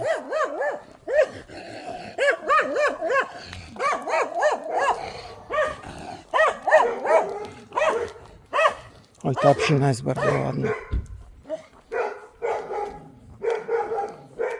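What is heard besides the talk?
dog barking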